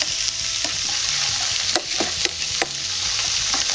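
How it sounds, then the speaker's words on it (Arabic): Garlic and ginger frying in a pan for vegetable and shrimp noodles, a steady close sizzle broken by light stirring scrapes and clicks, with no one speaking. "هون بانتظار ثوم وجنجر يتقلوا شوي"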